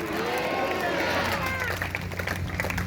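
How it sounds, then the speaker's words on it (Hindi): A church congregation at a Sunday service breaks into clapping, a brisk, scattered patter of many hands that rises after a preacher's voice fades. "अगर आए तो जोरदार तालियां बजाएंगे।"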